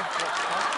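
A human voice imitates the call of a wild male crow in one short, loud, raspy burst with no pauses.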